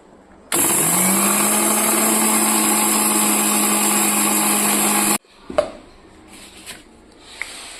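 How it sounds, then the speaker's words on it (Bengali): A mixer grinder jar grinds whole spices coarsely for mango pickle. The motor whirs up and runs loud and steady for about five seconds, then cuts off, leaving a few light clatters. "মিক্সিং জারে নিলাম, এবার আমি গুঁড়ো করে নিচ্ছি।"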